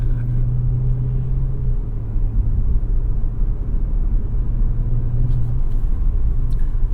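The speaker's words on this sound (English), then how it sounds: "Let's turn the exhaust in quiet mode, and then we really are quiet everything." A 2021 BMW M5 cruising with its exhaust in quiet mode, a steady low cabin rumble of engine and road noise with a faint hum above it. The sound is smooth and constant, with no acceleration bursts.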